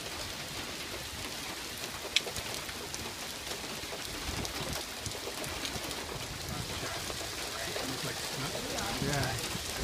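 Steady rain falls during a tornado-warned Fourth of July storm, a dense continuous hiss throughout with a brief sharp knock near the start and a low rumble underneath.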